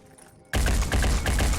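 A sudden loud burst of gunfire in the turn-based video game Phoenix Point, a tight cluster of shots after a quiet moment, with no voices.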